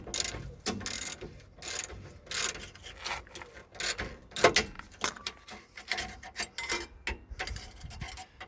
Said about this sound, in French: Je vais me prendre une clé plate de 18.